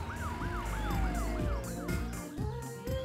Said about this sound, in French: L'ambulance est là.